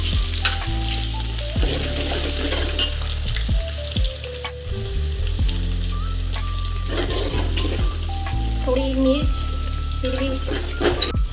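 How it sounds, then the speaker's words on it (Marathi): Mustard seeds, cumin, green chilies and dried red chilies sizzle in hot oil in a pan, a loud, steady crackle with stirring under soft background music. "राई ॲड करून घेऊ जिरं मिरची लाल मिरच ॲड करून घेऊ"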